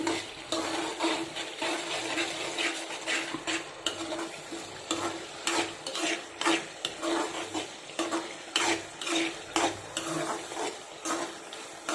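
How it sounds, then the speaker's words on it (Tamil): Red chili paste sautéing in oil for a tomato pickle gives a steady close sizzle with repeated scraping stir strokes, loud and continuous with no talk. "இப்போ இந்த மிளகாய் விழுது வந்து நல்லா வதங்கிட்டுருக்கு."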